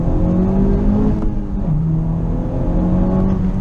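Honda Civic Type-R with over 300 horsepower accelerating hard, its engine note climbing steadily in pitch, dropping briefly at a gear change, then rising again, loud and close throughout.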